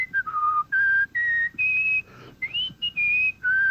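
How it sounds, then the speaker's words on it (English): A man whistles the Star-Spangled Banner, a clear melody of sustained, sliding notes broken into short phrases with brief pauses, close and solo. "I began whistling the Star-Spangled Banner."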